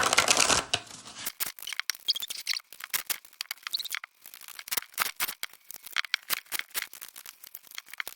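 Tarot cards are shuffled by hand up close, giving a loud riffle at the start followed by a long run of short, irregular flicks and slaps of card against card.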